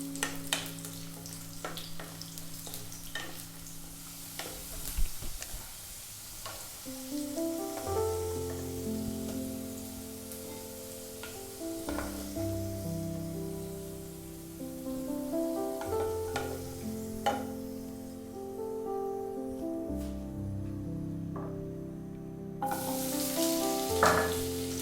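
Potatoes browning in hot frying oil during chicken afritada prep give a steady, close sizzle with occasional stirring scrapes and bubbling bursts throughout.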